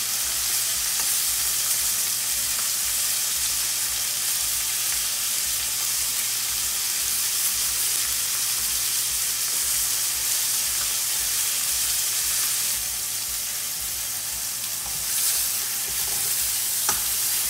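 A T-bone steak fries in a hot pan while it is basted with butter, giving a loud, steady crackling sizzle that runs without a break and without any talking.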